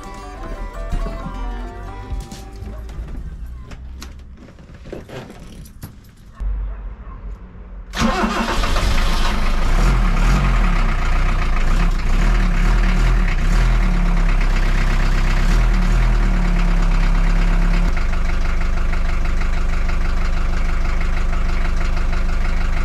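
A Fiat Ducato van engine with a new budget exhaust cranks and catches, then settles into a loud, steady rumble that holds for several seconds before dropping to a lower, even idle.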